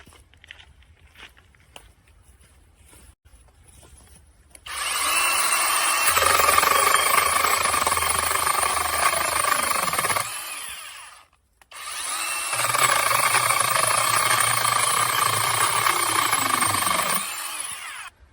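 A Krafftec cordless battery chainsaw runs in two bursts of about five seconds each, a close, loud motor whine that stops between bursts and cuts off at the end, with quiet handling noises before it starts.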